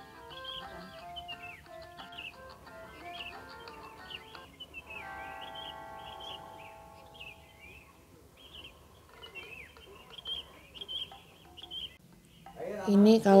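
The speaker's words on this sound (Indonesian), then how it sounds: "Teman-teman, dengar kicauan burungnya enggak?" Birds chirp and twitter softly at sunrise in the Silancur Highland near Magelang, scattered calls repeating over a low outdoor hush before louder noise at the end.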